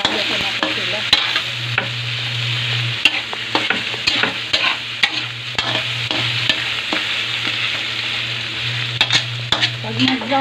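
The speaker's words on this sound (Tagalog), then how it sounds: "Nagigisa ko na po ang pork at ang mga ricado, pinaghalo ko na po sila." Pork and aromatics sauté in a pan with a continuous sizzle, while frequent spatula scrapes and clanks sound against the pan and a low hum runs underneath.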